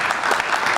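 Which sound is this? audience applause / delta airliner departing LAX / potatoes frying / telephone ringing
audience applause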